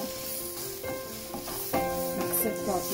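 Chicken strips hiss and sizzle steadily in a hot pan for an Indian-Chinese crispy chilly chicken dish, with scraping stir and toss sounds rising over the frying noise.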